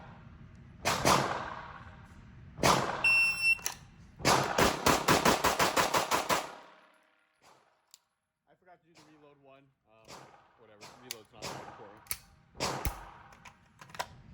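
A US Army service pistol fired on a range at 3 yards, starting in double action: a few sharp single shots, then a fast string of cracks, followed by quieter talk and faint sounds.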